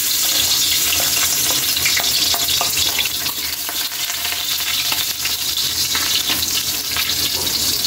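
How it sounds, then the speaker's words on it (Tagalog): Garlic sautéing in hot oil for pork binagoongan, a steady close crackling sizzle with scattered pops and the occasional scrape of stirring throughout. "Kaili, ilagay na natin yung bawang"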